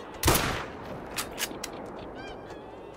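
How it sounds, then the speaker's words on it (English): A loud rifle shot cracks once early on in theHunter: Call of the Wild hunting game, followed by scattered honking from a flock of greylag geese and a few fainter pops. "I'm gonna hop up with my rifle and go ahead and pop that one right in the chest."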